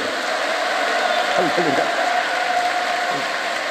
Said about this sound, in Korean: 우리 격한 박수로 장로님들